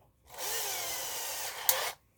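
A power drill bores a 3.2mm hole in the base of a magnetic twin-head light tower, giving a close, steady whine that lasts about a second and a half before cutting off.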